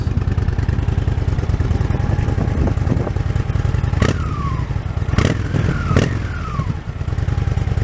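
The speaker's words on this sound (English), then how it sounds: "Go ahead and give it a few revs" A warm 2013 Honda Shadow RS (VT750RS) motorcycle engine idles loudly and steadily up close, then is blipped in three quick revs that rise and fall back to idle.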